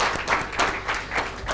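Short burst of audience applause closing a renewable electrification roundtable panel, moderately loud with a few distinct clap accents in a rhythmic pattern.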